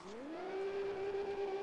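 Engine note of a car drifting in the racing game Need For Speed ProStreet, a steady rising whine that climbs and then holds a sustained high pitch, loud and alone with no talk.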